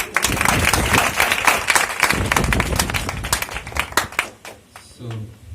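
A church congregation claps for Jesus in a loud, dense burst of many hands that thins into scattered claps and fades out, with a voice starting up at the end.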